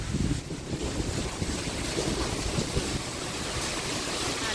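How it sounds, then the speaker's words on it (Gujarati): Strong, gusty wind of an unseasonal winter storm with lightning, buffeting the microphone in a continuous loud rush with rumbling low noise throughout, no talking. "ઓહો વાવાઝોડા આવી રહ્યો"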